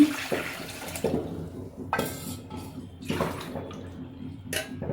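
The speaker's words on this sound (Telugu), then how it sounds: "రెండు గిన్నెలు వాటర్ పోసుకున్నామండి" Water splashes and pours in several short bursts into a cooking pot, measured out with a bowl for rice-flour dough, with clinks of a metal vessel between pours, close by.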